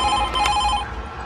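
A telephone rings once in a short bright burst in a horror movie trailer, loud and close, with no talking.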